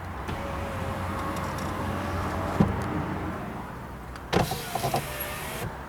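A Fiat car's electric door window motor hums steadily as the glass travels, then a click and a few short thuds follow as it stops.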